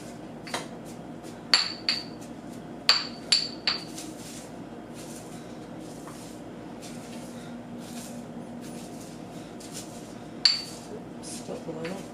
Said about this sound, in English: I am literally grinding this up right now with my mortar and pestle because I lost my electric grinder